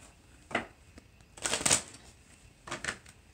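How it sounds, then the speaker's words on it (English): Tarot cards are shuffled in three quick riffling bursts, soft and close, separated by short pauses with no voices. "Let me shuffle these cards here."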